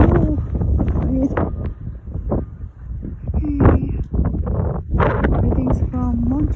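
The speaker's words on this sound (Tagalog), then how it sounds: "Hangin." Wind gusts during a snowstorm in Montreal, a low rumbling rush against the microphone that rises and falls under a person talking.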